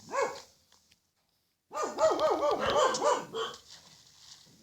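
A Minecraft dog barks in a quick burst of several sharp, rhythmic barks after a lone bark and a pause, loud and close.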